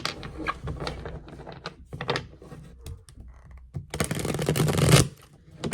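A deck of tarot cards is shuffled by hand during a reading: scattered soft taps and riffles build into a dense, loud burst of card flutter lasting about a second, then it fades out.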